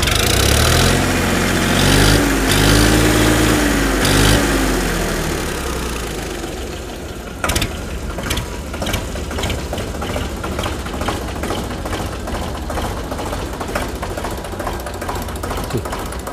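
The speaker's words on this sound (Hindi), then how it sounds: "एक बार सेल्फ लगा के दिखा दो भाई ट्रैक्टर में" Sonalika DI 35 tractor engine at a tractor market being self-started, a loud cranking and firing burst that settles into a steady, close diesel idle with rhythmic knocking.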